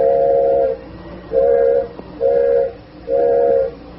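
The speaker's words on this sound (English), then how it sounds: "Engineer's whistling for a flagman." Four long steam locomotive whistle blasts in a steady rhythm, each about half a second, sounding fairly close over a low background rumble.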